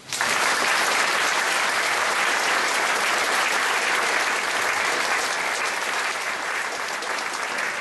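Sustained applause from an audience at a political election convention in Ljubljana, a dense, even wash of clapping that holds steady for several seconds and eases off slightly near the end, with no speech over it.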